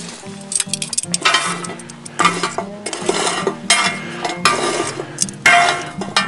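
Metal tongs handle short ribs in a Dutch oven, making repeated close, bright clinks and clanks of metal on metal in irregular bursts, with brief quiet gaps between them.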